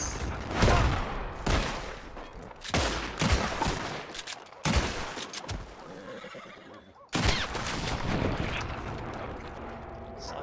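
Gunfire in Red Dead Redemption 2: several loud, close shots in separate bursts, mixed with a horse whinnying and hooves, and a final shot after a brief lull.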